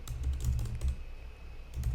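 Steady typing on a computer keyboard while entering information, a quiet run of close key clicks and taps with a short lull in the middle and no speech.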